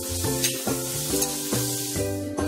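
Onion with turmeric, chili powder and salt frying in a pan over a medium flame, a continuous loud sizzle with a few soft stirring scrapes, heard close and alone.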